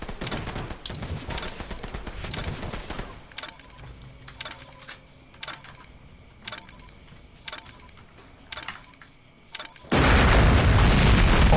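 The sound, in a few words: explosion sound effect in Alone in the Dark: Illumination video game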